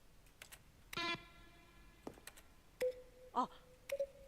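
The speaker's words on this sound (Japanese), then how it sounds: "各サウンド、シンセサイザーの音色とキーボードのストロークをミックスして作られている" Button-press sounds from The Stanley Parable video game, made by mixing synth tones with keyboard strokes: several separate clicks and short tonal chimes, some ringing briefly, spaced across a quiet background.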